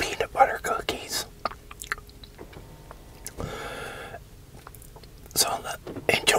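Chewing on keto peanut butter cookies in close-up ASMR style, soft crunchy mouth sounds and bites coming in bursts with quiet gaps between, heaviest at the start and end, with some whispering mixed in.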